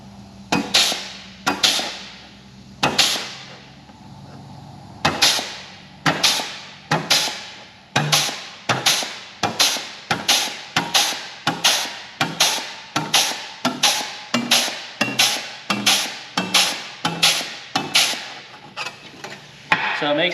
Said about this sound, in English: take my flanging tool